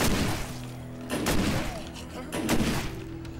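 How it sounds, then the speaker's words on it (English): Shotgun blasts from the State of Decay game, with a few loud booming shots spaced about a second apart over a dense background of game noise and a talking voice. "Switch to the shotgun."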